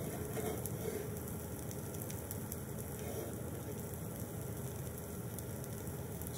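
Rosti potatoes frying in clarified butter, a dense, constant sizzle that holds at a quiet, even level from start to finish with no pauses or talking.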